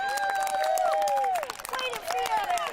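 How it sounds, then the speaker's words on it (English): Spectators at a youth baseball game cheer and clap, a dense, lively swell of voices with whoops and shouts rising over a steady wash of applause, loud and close throughout. "The crowd is into it."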